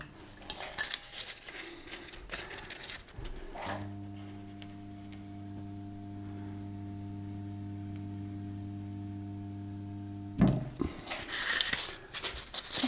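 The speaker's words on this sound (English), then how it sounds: "as you can see, I cut away strips of foam" A peeler tool slicing strips of foam, giving a steady electrical hum that starts after some scraping clicks and ends abruptly, followed by more handling noises.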